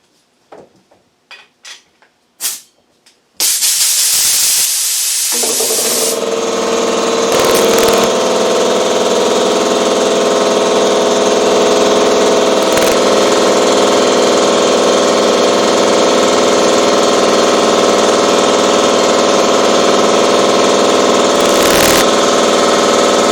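An air compressor just back from an oil change starts up after a few scattered clunks, then runs steadily with a loud, constant motor and pump drone that holds to the end.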